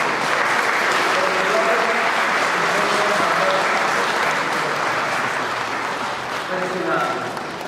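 Wedding guests applaud steadily and loudly together for the new couple right after a church blessing at a wedding in Salitral de Carrera, Villa de Ramos, SLP, with faint voices mixed into the sustained clapping.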